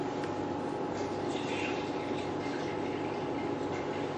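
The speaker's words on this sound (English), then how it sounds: "now we add the pure water." Pure water pours steadily into the tank of a CoolSculpting machine with a continuous rushing, gurgling hiss, close and even throughout.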